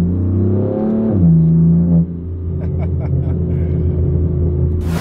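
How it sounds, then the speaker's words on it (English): A BMW M4 with an upgraded exhaust rises in a loud, harmonic-rich rev, drops off sharply at a gear change, then settles into a deep rumbling drone with a few crackles. "Wow, does this car sound good with the exhaust?"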